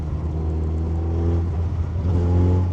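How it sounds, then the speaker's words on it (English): A 2025 Kawasaki Ninja 1100SX SE sport-tourer cruises in sixth gear, its engine giving a steady, close, low drone with a gentle rising swell and no voices. "let's see how this rides sedately with this engine and transmission"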